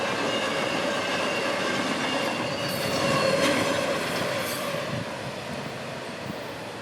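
Freight train I-32, running from Jacksonville to Baltimore, rolls past with a dense, steady rumble of wagons and faint wheel squeal, swelling slightly midway.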